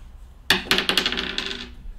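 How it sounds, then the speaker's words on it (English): Plastic dice tossed for a football card box mixer clatter and scatter across a hard surface, a sharp initial impact at mid-clip followed by several quick bounces and rattling clicks that trail off after about a second. "The dice kind of went all over the place."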